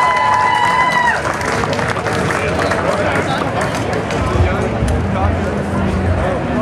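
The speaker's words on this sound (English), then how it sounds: "Round of applause" Outdoor Canada Day crowd applauding and cheering a top Canadian beatboxer, a loud, sustained wash of clapping and crowd noise with a brief tone at the start.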